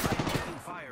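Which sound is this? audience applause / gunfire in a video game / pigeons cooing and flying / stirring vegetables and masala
gunfire in a video game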